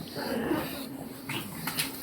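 Pug puppies whimper and snort in short wheezy bursts while playing close by, with a voice talking over the noises.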